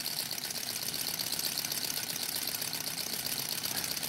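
A small model Stirling engine drives the blades of a toy helicopter, spinning slowly over a flame. It makes a steady, close whirring and rattling hum that holds the same level throughout.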